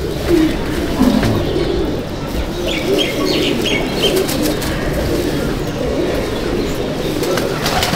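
Pigeons coo in a loft with soft repeated throaty calls, some chirps and brief wing flutters, continuous and close.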